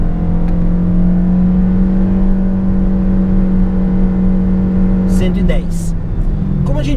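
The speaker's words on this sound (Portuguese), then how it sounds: "vou reduzir a velocidade aqui para 80 km por hora e vou fazer uma aceleração aí até 110" A Toyota Yaris XL Plus Tech with a CVT automatic accelerates hard from 80 to 110 km/h, its engine holding a loud, steady high-revving drone inside the cabin, with brief clicks and a slight dip near the end.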